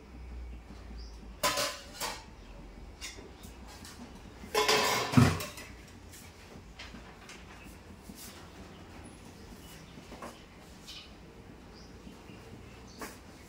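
A metal lid clatters down onto a pot of biryani with a short clanking burst, followed by quieter kitchen rustling and faint clinks.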